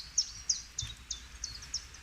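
A flycatcher in Germany repeats a sharp, thin high call about every quarter second, six or seven evenly spaced chips, moderately faint outdoors with no talk.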